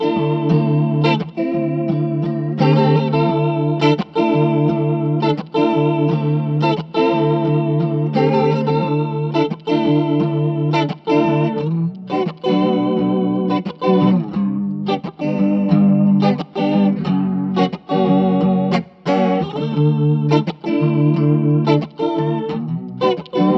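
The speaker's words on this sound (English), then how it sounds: "this, you know, has a really nice analog chorus sound" Electric guitar played through a Walrus Audio Julia analog chorus pedal, a continuous strummed chord progression with shimmering, wavering chorus, loud and steady throughout.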